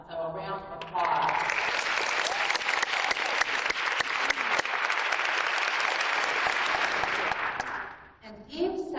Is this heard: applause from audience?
yes